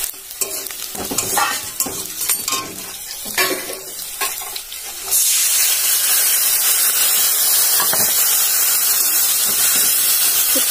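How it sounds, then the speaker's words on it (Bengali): Onions frying in a pan for a fish curry, with rapid scraping stirs over a steady sizzle for about five seconds, then a loud, continuous hissing fry that carries on alone. "মাছের ঝাল করার জন্য পেঁয়াজগুলো ভাজতে দিয়ে দিয়েছি"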